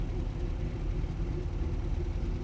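A dune buggy engine idles in evening traffic, a steady low mechanical rumble that stays even and close throughout with no voices.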